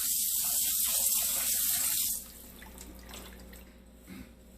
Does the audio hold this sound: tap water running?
yes